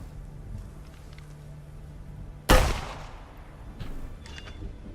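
A single sharp gunshot in a horror video game, a loud sudden crack with a decaying tail, over a low quiet game ambience with faint metallic tones afterward.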